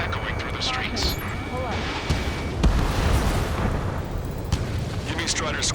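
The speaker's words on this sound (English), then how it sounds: "gunfire and the roar of jets echoing through the streets." Dense booming gunfire and explosions mix with a roaring jet sweep and a whine in the game Ace Combat 7: Skies Unknown, loud and chaotic, with a voice speaking underneath.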